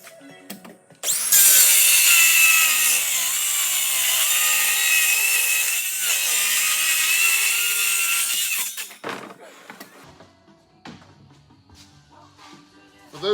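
A power saw rips loudly and steadily through wooden boards and a sawhorse for a horizontal beehive build, one long cut of about eight seconds, then it winds down into scattered clunks and handling noises.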